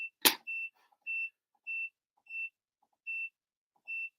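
A CNC milling machine cutting carbon fibre emits a series of short, clean electronic beeps at an even pace, about seven in four seconds, after one sharp click at the start.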